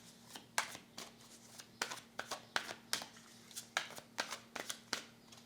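Tarot cards handled and laid down during a reading, a series of crisp card snaps and slides repeating irregularly, close and clear with no talking.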